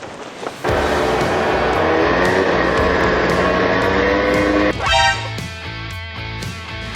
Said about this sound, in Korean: 아 일단 오토바이가 너무 힘들어해 엔진이 터질려 그래